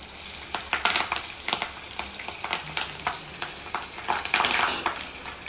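Oil sizzles steadily in a pan, with irregular louder crackles and spatters as salted fish and green chilies are stirred and added, close up and without any talk.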